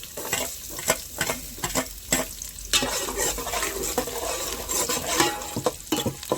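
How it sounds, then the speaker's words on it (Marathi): Onion frying in hot oil in a pot, a close, steady sizzle broken by repeated stirring scrapes, loudest after the pieces settle in, with no voices. "तर मित्रांनो, आता तेल तापलेलं आहे. त्यात सर्वात आधी आपण कांदा टाकू."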